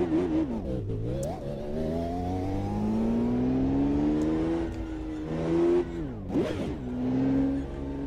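Naturally aspirated V12 race car without turbo, a Ferrari F512 BB LM, revving in Automobilista 2 at Hockenheim: loud, close engine climbing through long rising pulls, dropping between gear changes and surging again, with no talk.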